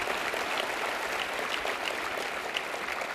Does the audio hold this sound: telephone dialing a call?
no